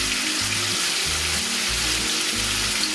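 Montreal-spice-crusted steak searing in a hot pan, a loud, dense, continuous sizzle that holds steady throughout with no talk.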